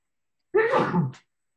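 One sharp, loud sneeze bursts out during a library board of trustees meeting, preceded and followed by silence.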